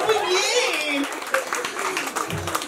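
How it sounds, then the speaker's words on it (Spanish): Guests at a baby shower give scattered applause among lively voices and children's chatter, moderately loud and mixed under ongoing talk. "¡Aplauso! ¡Muy bien!"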